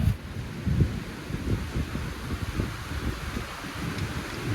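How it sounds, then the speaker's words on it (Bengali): Dense low rumbling rain and gusting wind buffet the microphone steadily, with no voices, a continuous heavy downpour close by. "বিশাল জোরে বৃষ্টি নেমে গেছে।"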